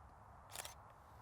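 A single camera shutter release on an SLR fitted with an 18-55mm kit lens, set to a slower shutter speed for a portrait, one short crisp click-clack over quiet room tone.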